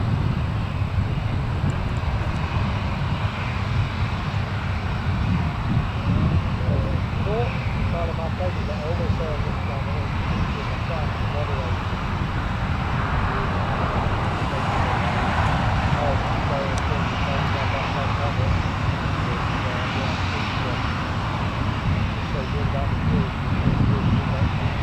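An aircraft passes at Newcastle Airport with a broad, steady engine roar that swells and fades over about twenty seconds, heard at a distance through wind and a person speaking.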